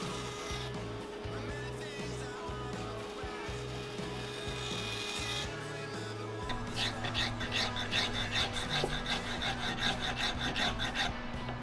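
A carbon fiber laminated tailpiece cap for an archtop guitar is shaped by hand with steady filing and rasping strokes, faint and close, growing more rhythmic toward the end over a low background hum.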